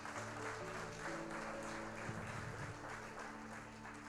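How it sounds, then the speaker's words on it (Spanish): A church congregation applauds during a sermon, with a dense, steady wash of clapping that lasts the whole stretch, layered over sustained instrumental tones and no clear talk. "Denle un aplauso al Señor, mi hermano."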